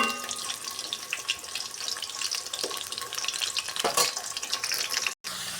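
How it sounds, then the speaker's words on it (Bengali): Large potato pieces fry in oil, a close steady sizzle with occasional stirring scrapes and a brief cutout near the end, no talking. "তো আমার আলুটি লাল করে ভাজা হয়ে গিয়েছে।"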